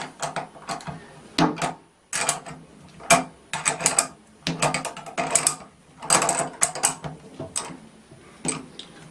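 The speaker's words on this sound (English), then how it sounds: "The tension is coming off as the bearing gets pushed into the bigger socket." A ratchet wrench clicks in quick bursts with short pauses while a bearing is pressed out of a casting into a larger socket. The clicking is close, crisp and mechanical, with no talking.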